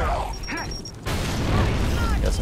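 Grenade blast in a shooter video game: a sudden loud boom halfway through that lingers as rumbling noise, after a voice talking over game sounds.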